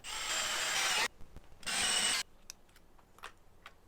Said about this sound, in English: So we'll drill it out to the right size.